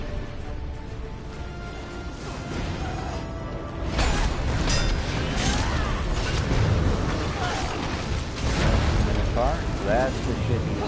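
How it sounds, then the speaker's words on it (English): A spell explosion during the Vateshran boss fight in World of Warcraft erupts loudly at about four seconds and continues as a dense roaring, crackling wash of combat effects, with talking heard over it. "And this will explode."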